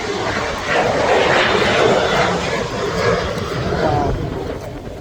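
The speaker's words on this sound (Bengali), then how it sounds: "প্লেন যাচ্ছে।" An airplane passing overhead just behind an airport in Langkawi, a steady broad engine roar lasting throughout, moderately loud and near, with faint outdoor ambience.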